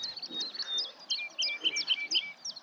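Woodlark singing on Greenham Common heathland: a clear, fairly close series of bright, liquid chirping phrases that repeat in quick succession and step downward, with no talk over them.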